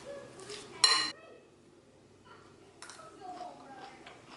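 Coleslaw is stirred in a bowl with a utensil, giving a sharp scrape and clatter near the start, then softer scraping and light clinks close by at low volume.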